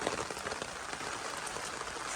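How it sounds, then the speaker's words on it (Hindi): Steady rain falls on a rainy day in Miandam Valley, Swat, a continuous close hiss of drops hitting surfaces with no talking. "लेकिन ये फॉग नहीं है, ये बारिश है"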